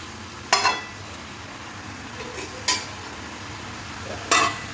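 Cabbage stirred slowly in a pan for a Bengali-style curry: three spaced, brief metallic scrapes and clinks of the spoon over a faint background hiss.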